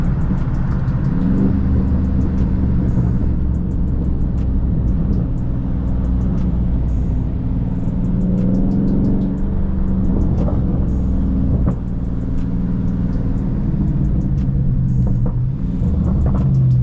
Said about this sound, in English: When we get in the lower gear, it should pop.